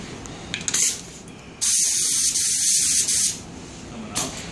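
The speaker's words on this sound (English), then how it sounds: "This is going to be my gun for top coat right here." A spray gun applies top coat to a large walnut table: short bursts of loud, close hissing spray, with one long steady blast in the middle and a brief shot near the end.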